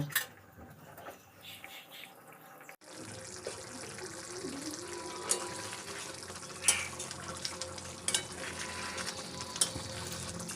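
Fish pieces in yogurt gravy for Bengali doi dhela simmer and reduce in a pan, giving a steady close sizzle and bubbling with occasional sharp crackles and stirring noises after a quieter start.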